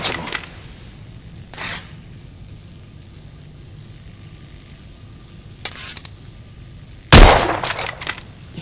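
Gunfire in the video game The Order: 1886, a few sharp isolated shots spaced seconds apart, with one loud close blast near the end over a quiet background.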